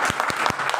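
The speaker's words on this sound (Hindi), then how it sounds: "एक जोरदार ताली होनी चाहिए" Listeners at a business seminar break into applause, a brief burst of sharp claps in quick succession, close and fairly loud, lasting under a second.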